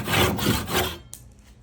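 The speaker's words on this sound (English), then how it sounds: "trusty dowel saw." Dowel saw cutting through wood while building a pontoon boat console, a few quick rasping back-and-forth strokes close up that stop abruptly, followed by a small tap.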